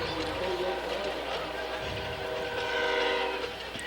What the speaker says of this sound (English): This is the 3rd train since we've been here tonight